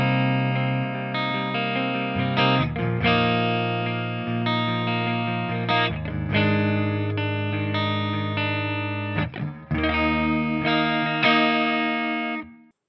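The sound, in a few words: electric guitar clean tone, neck pickup position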